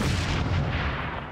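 A napalm strike in a Call of Duty game: a heavy, rumbling roar of fire and blasts, loud and continuous over a short burst, with no voices.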